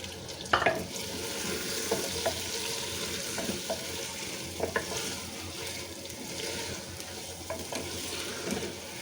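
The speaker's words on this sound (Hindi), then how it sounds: "और इन्हें अच्छे से भून लेंगे" Potatoes, 500 grams of them, sizzle and fry in spiced masala in a pan, a steady hiss with intermittent scraping stirs, fairly faint and without talking.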